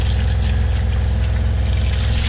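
The water pump of a Jayco Melbourne RV hums steadily while the shower runs and flushes antifreeze into a bucket, a loud continuous drone under a wash of rushing, splashing water.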